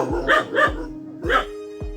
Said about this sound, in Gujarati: આ કૂતરો બંધ કરી લો